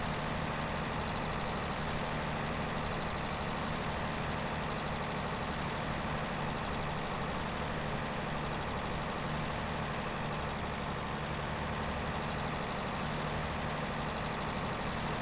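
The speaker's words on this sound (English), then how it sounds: "So this tractor is our kind of our newest model tractor" A 130-horsepower tractor engine in the video game Farming Simulator 17 drones at a steady, even low rumble for the whole stretch, close and unbroken, with no talking.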